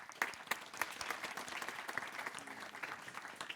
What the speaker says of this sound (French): Merci Aurélie, on peut l'applaudir.